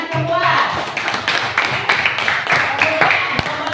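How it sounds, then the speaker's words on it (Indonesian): A classroom of students claps together at the teacher's request, a dense, steady burst of many hands close by, with a few voices mixed in. "Tepuk tangan semua."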